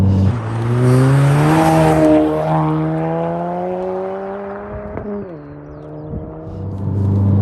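A Ford Focus ST Mk4 with a Dreamscience Stage 2 tune accelerating hard, engine note rising steadily through a gear before a brief shift dip and renewed pull, heard from inside the cabin with no talk.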